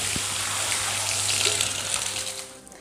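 Water rushes steadily through a small homemade hydro-electric generator, a loud continuous gushing hiss with a faint low hum underneath, close and uninterrupted, easing slightly at the end.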